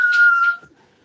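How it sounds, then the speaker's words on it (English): A person whistles one short, steady, clear high note for about half a second, loud and close, then it cuts off into near silence. "Yes, I can whistle. Let me try it."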